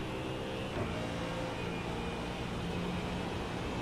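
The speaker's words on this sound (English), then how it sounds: "That Mustang is loud and nasty and has good brakes." Steady, continuous roar of a Ford Mustang GT3 race car engine in a racing video game, holding a constant loud drone throughout with no clear revving peaks.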